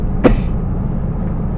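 A single short cough bursts out near the mic over a steady, loud low rumble of traffic or an engine.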